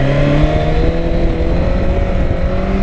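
A Honda CB1100 motorcycle engine roars close and loud for a stand-up wheelie, holding a strong steady growl with rising and falling revs throughout, with no voices heard.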